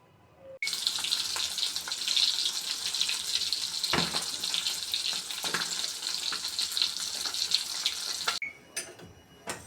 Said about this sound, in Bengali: এখন মাছগুলো ভেজে নিব।